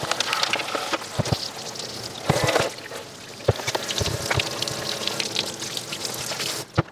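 Water splashing and pouring through a Beko tumble dryer condenser box, irregular gushes and drips with bursts of sharper spatter and brief knocks, close and fairly loud.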